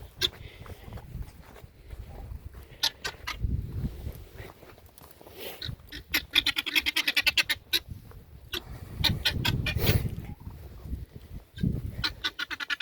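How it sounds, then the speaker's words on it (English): Guinea fowl squawk and chatter in bursts while being chased around in circles, with loud scattered calls and scuffling at fairly close range and quieter gaps between. "Chasing guineas around in circles."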